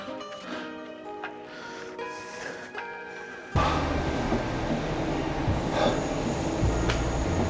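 A two-carriage train between Barnsley and Leeds: low rumble and rattle suddenly swells after a quieter stretch with a faint hum, then continues steadily, with occasional clanks from the rails.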